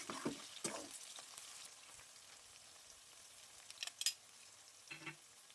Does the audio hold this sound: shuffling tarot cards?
no